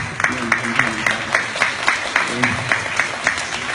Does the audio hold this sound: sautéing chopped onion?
no